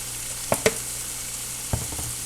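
Seasoned leftover chicken and shrimp fry in a pan with Cajun seasoning, a steady close sizzle broken by a few scraping stirs of the utensil.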